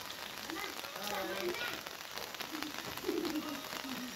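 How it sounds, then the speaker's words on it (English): Heavy rain falls steadily at a camp in Kablon, Tupi, South Cotabato, making a continuous broad hiss that lasts throughout, with faint voices or calls under it. "We experienced heavy rains for almost 6 hours now."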